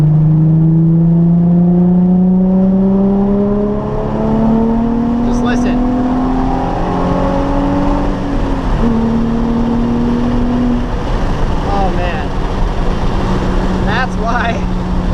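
A loud Nissan 350Z engine with a muffler delete drones and rises in pitch through the gears, with a short spoken remark over it and a raspy exhaust note.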